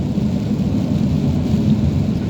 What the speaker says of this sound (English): So I'm under the clouds where it's raining.